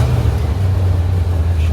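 A 1953 Allard K3 with a Cadillac 331 cubic inch V8 runs at a steady, deep idle, a low continuous rumble close by with no distinct revs.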